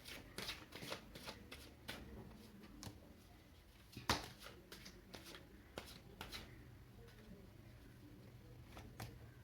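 A deck of cards being shuffled, heard as repeated short riffling bursts and flicks at a moderate, uneven pace, with one sharper snap midway, fairly quiet against a soft background.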